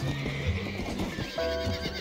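A horse neighs in the Red Dead Redemption video game: one clear whinny, with hooves clip-clopping close by.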